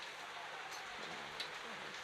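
Heavy rain pouring down on an outdoor football pitch during a Dunbeholden FC versus Humble Lion FC match, a broad, steady hiss of downpour with faint background noise beneath it.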